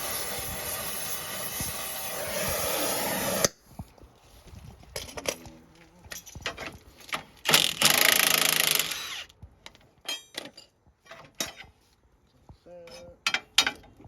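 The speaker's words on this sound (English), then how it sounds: "You gotta melt the nylon out of this nut." A torch or heat source hisses steadily while melting the nylon insert out of a lock nut on an '03 vehicle's control arm hardware, then gives way to clanks, tool knocks and brief speech in a garage.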